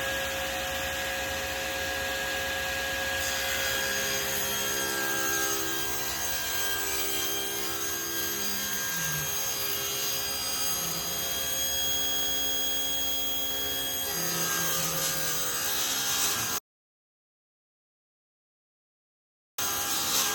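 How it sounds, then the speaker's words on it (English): Table saw cutting through a wooden board, a continuous whirring blade with the rasp of wood being fed through, fairly close, then cutting off abruptly into silence near the end. "Making the cut, our hands meet."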